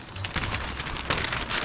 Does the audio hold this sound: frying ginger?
no